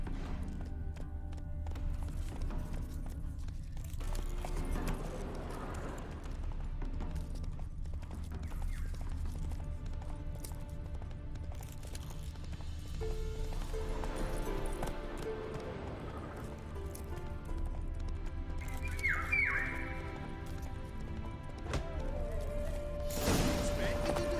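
Roach the horse gallops in The Witcher 3, hooves drumming steadily throughout beneath a dense, continuous layer of game music and ambience, fairly loud and unbroken.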